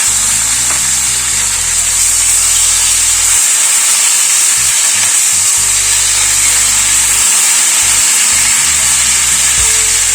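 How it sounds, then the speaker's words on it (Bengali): Pointed gourd (potol) pieces frying in oil over a medium gas flame, giving a steady, loud broadband sizzle and hiss that runs unbroken from start to finish with no talking. "গ্যাসের ফ্লেমটাকে মিডিয়ামে রেখে পটলটাকে ধীরে ধীরে ভেজে নেব"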